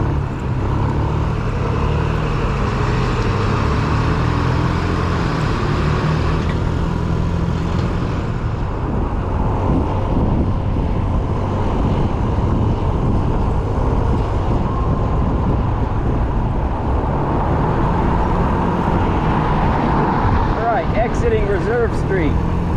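Steady road traffic around a Yamaha Smax 155 scooter on the road, a continuous roar of passing cars and trucks with engine and wind noise throughout, loud and close, while someone talks over it.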